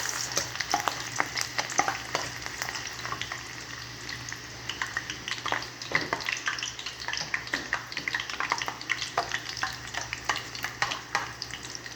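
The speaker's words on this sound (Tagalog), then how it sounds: "kailangan nating gisain muna yung sibuyas ay bawang para mangamoy siya" Onion and garlic sauté in a hot pan, a bright steady sizzle with frequent spatula scrapes and clicks as they are stirred, close and without talking.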